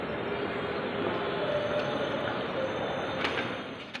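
A Dhaka metro rail train on the Pallabi to Secretariat line pulls into the station with a loud, steady rolling rumble, and faint wheel squeals and clunks come near the end.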